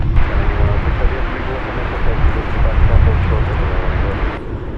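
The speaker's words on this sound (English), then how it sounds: "Arriving from Mexico City is at American Airlines 737-800" An American Airlines Boeing 737-800 arriving from Mexico City at DFW Airport gives a loud, steady low engine roar that holds for several seconds and drops away abruptly near the end, with a voice faintly present underneath.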